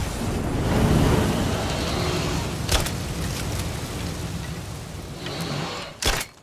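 A thrown bomb detonates in State of Decay 2 with a long, rumbling roar of broadband noise, followed by a sharp burst near the middle and another loud crack at the end.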